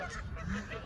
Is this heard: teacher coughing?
no